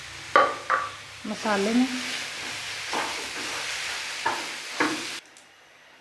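Chicken mince is tipped into spices frying in a pan and stirred, giving soft sizzling and scraping clatter in short bursts while someone speaks briefly over it.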